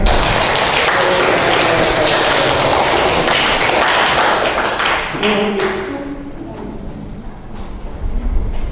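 Applause in a school classroom during an academic supervision session, dense clapping that fills the first five seconds and then thins out and fades, with faint voices and room noise underneath.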